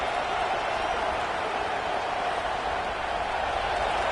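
Stadium crowd at a football game roaring steadily throughout, a dense, loud wash of cheering noise with no break.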